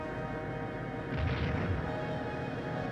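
In Skies of Arcadia Legends, a harpoon cannon fires and strikes with a brief, muffled crashing impact rising out of a low, steady rumble of game background noise.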